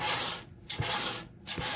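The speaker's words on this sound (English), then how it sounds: "I'm still just pulling the sanding block towards me" Sanding block scraping across wood end grain in three long rasping strokes, close and fairly loud, with short pauses between pulls.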